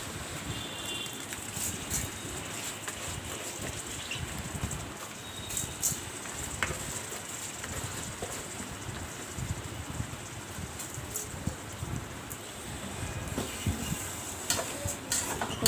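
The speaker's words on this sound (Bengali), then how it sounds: "চালগুলোকে ভালোভাবে ভেজে নেব একটু ভালোভাবে নাড়াচাড়া দিয়ে ভেজে নেব" Rice and lentils frying and being stirred in a pot for khichuri, a steady close sizzle with scraping and ticking of the spoon throughout, no voices.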